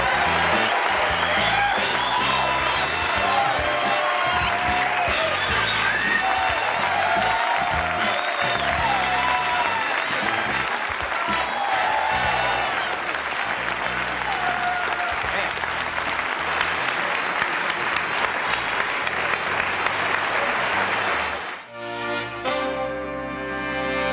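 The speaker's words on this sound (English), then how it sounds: "I'm humbled by that applause." A television studio audience at a late-night talk show gives loud, sustained applause mixed with cheering and whoops, a dense roar holding steady for over twenty seconds before cutting off abruptly.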